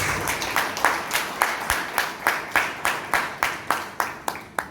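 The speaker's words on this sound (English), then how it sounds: "Just please give them a big round of applause." At a Toastmasters club meeting in Bangalore, a small group claps in a slow, even rhythm, each clap sharp and distinct, repeating about three times per second and easing off toward the end.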